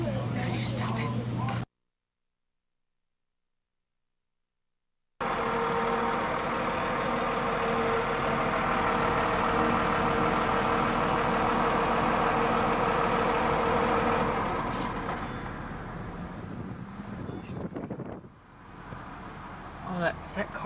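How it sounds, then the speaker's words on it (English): A car engine runs loudly for most of the stretch, a steady broadband rumble heard from inside the vehicle, with voices talking over it and a brief dropout near the start before the noise fades somewhat toward the end. "The car is really loud in the back"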